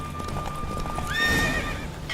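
In The Witcher 3: Wild Hunt, hooves clop quickly during a horse race over ambient noise before a horse lets out a loud, close whinny near the end.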